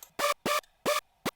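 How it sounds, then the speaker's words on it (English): Four short buzzy saw-wave synth stabs, bright and slightly wavering from detuning, played dry with no effects or reverb, each cutting off cleanly into silence. "It just is a basic saw wave with some detune."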